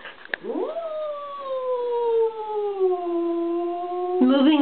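A drawn-out, wavering howl from a stressed cat on moving day rises sharply, then holds a long moaning tone that slowly sinks before another yowl begins at the end.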